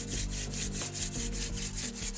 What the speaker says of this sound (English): this wildflower stalk is then spun against the other stick